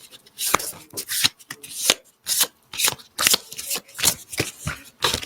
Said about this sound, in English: All right, just one more shuffle,